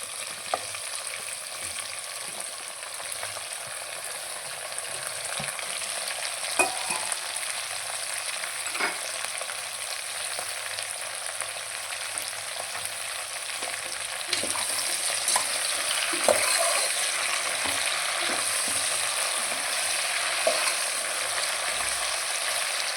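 Potato, carrot and cauliflower pieces stirred in a frying pan for vegetable kurma, giving a steady oil sizzle with scraping spoon strokes throughout, close and moderately loud, getting a little louder partway through.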